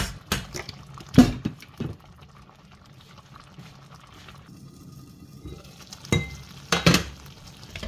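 Plantain and beans porridge cooking in a pot as crayfish is added, with a few sharp clinks and scrapes of a spoon against the pot and soft bubbling in between, close and sparse, no talking.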